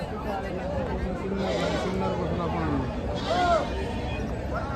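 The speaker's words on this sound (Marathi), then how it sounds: "इकडे पण आहेत बघा पिल्लावाले शेळ्या आहेत." Osmanabadi goats, including does with kids, bleat in short, wavering calls at a goat market, one standing out near the end, while several people chatter nearby.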